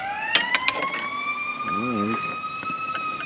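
Fire engine siren wailing past nearby in a neighborhood, its rising and falling tones steady through the whole stretch while people talk briefly over it and a utility vehicle rumbles close by.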